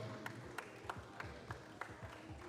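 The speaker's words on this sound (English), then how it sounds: "Let's give him a round of applause." A crowd at an MMA championship event claps for a fighter at the cage, with faint, steady rhythmic claps landing about three times a second over a low, distant room murmur.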